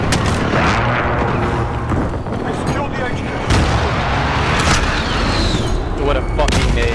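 Loud, dense Call of Duty Headquarters firefight with a grenade blast amid continuous gunfire and booming explosions, broad and close throughout, with voices talking over the battle.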